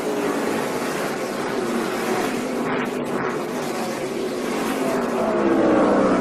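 Stock cars in the 2011 Federated Car Care 200 race in a close pack, their engines a loud, continuous roar whose pitch shifts and swells as they run nose to tail around the track.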